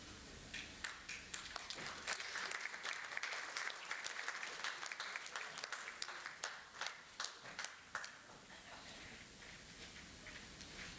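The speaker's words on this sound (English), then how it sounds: "A big round of applause, ladies and gentlemen." An audience applauds after a corporate presentation, a steady patter of many hands clapping continuously for several seconds, faint and somewhat distant in a hall.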